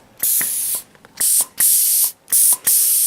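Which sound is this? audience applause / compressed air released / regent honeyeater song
compressed air released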